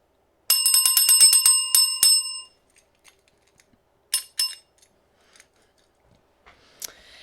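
A small bell rings close by in a rapid, bright trill for about two seconds, then a few short, isolated rings follow after a pause.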